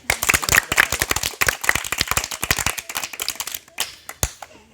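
Children clapping at a street magic show, a quick burst of uneven hand claps that thins out into a few scattered final claps, close and loud.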